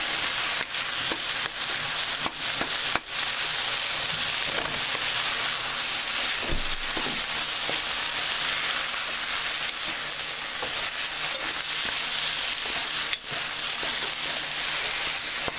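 Chili being stirred in a hot crock pot, a steady sizzling, scraping texture running throughout with a few sharper clicks and knocks of the spoon against the pot.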